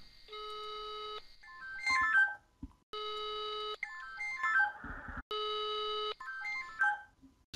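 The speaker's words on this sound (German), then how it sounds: "Dein Telefon klingelt, du Nudel." A phone ringtone plays in repeated bursts of steady electronic tones alternating with short melodic beeps, loud and close, with no talking.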